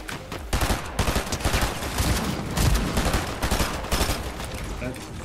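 Dense, continuous gunfire from a Fortnite match, with loud sprayed bursts and rapid shots running through the whole stretch while players talk over it.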